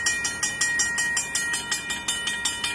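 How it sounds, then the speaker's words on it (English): A Safetran mechanical railroad crossing bell from 2003 rings in a fast, even series of metallic strikes, about five per second, loud and close with a sustained ringing tone between hits. "a mechanical bell like this"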